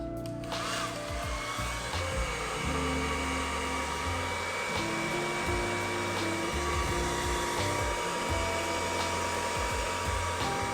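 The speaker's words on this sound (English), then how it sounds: "you can actually use a hairdryer to push the resin up." A hairdryer blows across wet resin on a cheese board with an ocean-wave design, giving a loud, continuous whirring roar with a shifting motor pitch that runs steadily throughout, close to the microphone.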